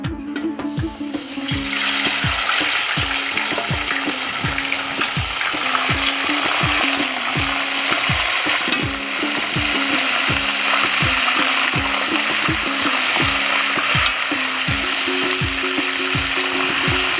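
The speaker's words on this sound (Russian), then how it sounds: "Вот наше масло готово. Сейчас мы добавляем сюда мясо." Meat sizzles loudly in hot oil for Tajik fatir-shurbo, a constant close frying hiss punctuated by regular scraping knocks of a utensil stirring the pan, no voices.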